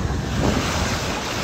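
Ocean surf and gusting wind roar together in a dense, continuous wash, close and loud with no pauses, out on open water.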